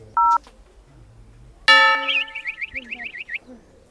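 A mobile phone rings loudly and close by, a warbling electronic ringtone with repeating chirps that starts after a short beep and lasts several seconds, with no talk over it.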